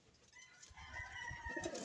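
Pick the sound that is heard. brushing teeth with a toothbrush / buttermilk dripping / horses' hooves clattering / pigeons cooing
pigeons cooing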